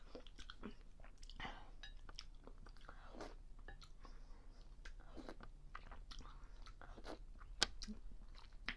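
Faint, close chewing and biting while eating Iraqi pacha, with soft wet crunches and smacks scattered irregularly over a quiet background and one brief louder click near the end.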